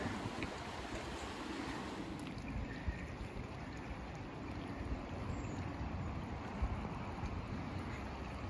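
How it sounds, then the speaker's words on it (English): Fast-flowing busy river passing beneath a canal aqueduct near Cromford Mills, Derbyshire, heard as a steady broadband rush of water with outdoor wind throughout, continuous and fairly loud with no talking. "Very fast flowing, busy river."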